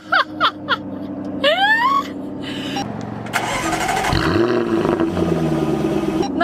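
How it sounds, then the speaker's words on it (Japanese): A few short clicks and chimes, then a starter whirs and a Jaguar F-Type R Coupe engine fires up with a loud roar, settling into a strong rumbling idle. "エンジンかけますよ。"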